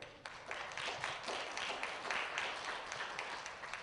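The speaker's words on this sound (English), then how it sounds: "let's give them a round of applause" A crowd gives a round of applause at a hip-hop talk, a busy, even patter of many hands with no voices over it.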